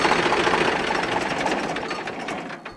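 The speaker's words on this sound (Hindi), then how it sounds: "अभी हम ट्रैक्टर को बंद कर देते हैं।" A Swaraj 735 FE diesel tractor engine runs with a loud, rough mechanical clatter close by, then winds down and cuts off near the end.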